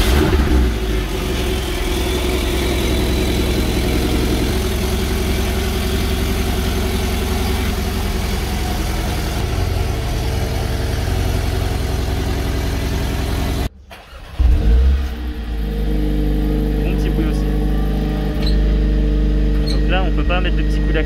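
An Audi R8 with a V10 engine runs loud and close, a sustained engine drone that cuts out abruptly and then settles back to a lower idle, while people talk over it.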